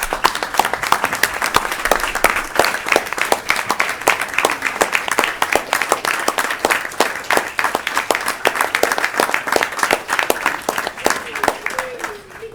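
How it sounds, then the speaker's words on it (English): A room of people claps for advocates during a Senate Health and Welfare session, a long run of distinct, rhythmic handclaps, fairly close and steady, with a few voices murmuring underneath. "please stand up so we can all give you a big round of applause of what you mean to us"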